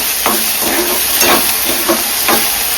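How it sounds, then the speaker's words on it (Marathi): Onion, tomato and ginger-garlic paste frying in a pan, giving a steady close sizzle and hiss with a few soft stirring scrapes, no voices. "आलं लसणाची पेस्ट सुद्धा टाकून घेते म्हणजे व्यवस्थित त्यात फ्राय होईल"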